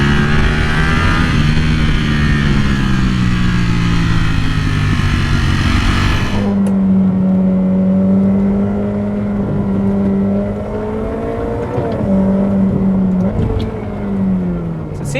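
A Ferrari F8 Tributo runs fast down a twisty road, its engine note droning loud and close with rising and falling pitch through the bends, then settling into a steadier hum as wind noise drops away.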